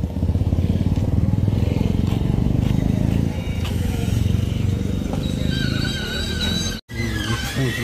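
Motorcycle near a church on a main road, a continuous engine rumble heard close by with traffic noise, a brief dropout near the end.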